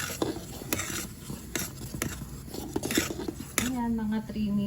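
Strong Robusta coffee stirred in a pot, a series of close clinks and scrapes from a spoon against metal in an uneven rhythm, with a faint sizzle and a brief voice near the end.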